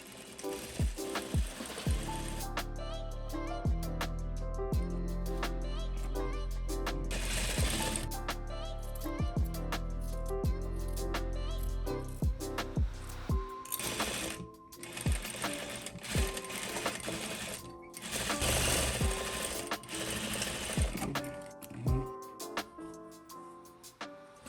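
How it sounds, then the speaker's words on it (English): Sewing machine stitching a dress placket for a ruffled puff-sleeve dress, a rapid close mechanical whirring and clatter in several runs, pausing and restarting, with no talk. "And sew."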